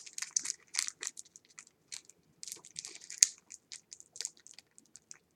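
Skylanders Battlecast card package being torn open by hand, a run of close, crisp crinkling and crunching bursts of plastic wrapper with short pauses, one sharper snap near the middle.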